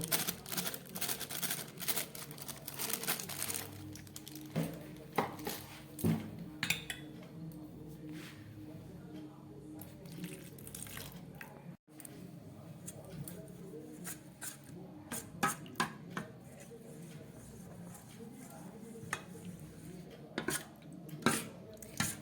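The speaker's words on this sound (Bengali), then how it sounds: "কর্নফ্লাওয়ারটাকে একটু পাতলা করে আমি গুলে নিলাম" Cornflour being mixed thin with water in a bowl, with a utensil clinking and scraping against the dish in quick, irregular strokes, close up and fairly quiet, with no talking.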